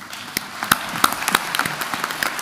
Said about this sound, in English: please join me in giving my life a round of applause